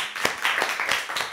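A small audience claps for a volunteer picked from the crowd at a live comedy show, a few distinct sharp claps standing out over a thin, short spatter of applause.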